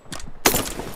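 A single loud, sharp M24 sniper rifle shot in a video game cracks out close up, preceded by a couple of fainter bursts of noise and followed by a short ringing tail.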